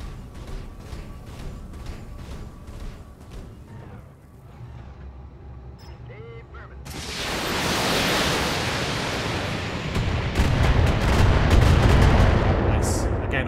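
A missile salvo fired in the BattleTech video game, a dense roaring rush of launches and impacts that swells suddenly and stays loud, with no talk over it.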